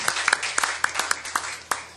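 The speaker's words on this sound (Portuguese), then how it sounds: "para quem eu peço uma salva de palmas" At a public hearing, an audience claps for a traditional viola caipira player. The claps are sparse and distinct, a few hands striking in an uneven rhythm over about two seconds, close by and moderately loud.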